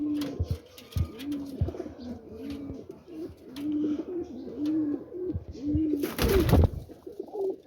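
Teddy pigeons coo repeatedly at close range in a Rawalpindi loft, soft rolling calls in a steady rhythm, with a brief flutter or clatter near the end.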